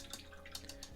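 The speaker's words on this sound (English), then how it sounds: "Then we're going to wash the brush," A paint brush is rinsed in a water pot, giving a few soft, close drips and splashes that come in brief irregular pulses, quiet and alone.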